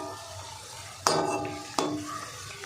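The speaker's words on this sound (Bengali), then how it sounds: "দেখুন বন্ধুরা সিঙ্গাড়াগুলো ভাজা হচ্ছে।" Cauliflower samosas deep-fry in hot oil in a home kitchen, with a soft, steady bubbling hiss. Two sharp clinks of a utensil against the pan stand out above it.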